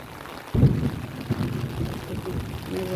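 Steady rain falling outdoors with gusting wind, a low rumble starting suddenly and washing over a continuous patter.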